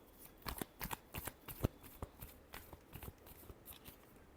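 Tarot cards riffled in a final shuffle during a reading, a series of quick crisp paper flutters and snaps, close and fairly quiet, with no talking.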